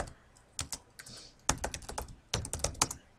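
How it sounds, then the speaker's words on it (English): Typing on a computer keyboard, irregular clusters of crisp close key clicks with short pauses between bursts, no talking. "And I hit Tab and I type."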